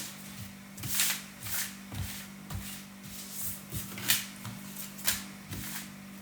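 Tarot cards shuffled by hand close up, a rhythmic series of soft riffling slaps about twice a second over a low steady hum.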